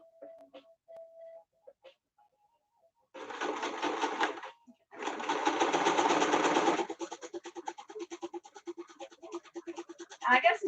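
Sewing machine stitching fitted face mask fabric, running in two sustained bursts and then a quicker pulsing stretch, with brief stops between runs.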